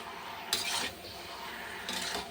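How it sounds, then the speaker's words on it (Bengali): A utensil stirs dried fish, spices and vegetables in a pan, giving two short scraping swishes of metal on the pan with quiet cooking noise between them. "শুটকি মাছটা দিয়ে একটু হালকা কষিয়ে তারপরে মশলা সবজিগুলো দিয়ে দেবো।"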